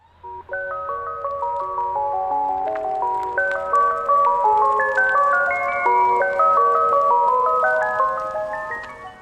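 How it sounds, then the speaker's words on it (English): A Tesla plays its electronic ice cream truck jingle, a bright, clean, tinkling melody of chime-like notes that runs continuously at even volume, with no voices over it. "Ice cream truck. I actually have plans for this one if it plays loud enough outside the car."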